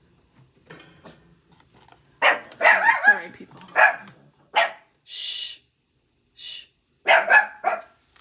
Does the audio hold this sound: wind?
no